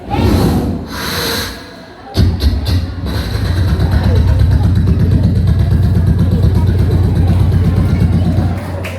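A storyteller's voice loudly imitates a flying helicopter at a religious celebration: after a breathy build-up, a steady, pulsing, throaty rotor-like rumble carries on for several seconds, close to the microphone.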